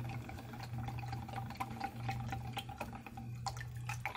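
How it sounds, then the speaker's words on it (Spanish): Salted water is poured from a tap-like stream onto pork rinds in a paella pan on a stove, a steady splashing flow with a low hum underneath. "vamos a agregarle aquí el agua, aquí a los a nuestra paella aquí lista para hacer los chicharrones"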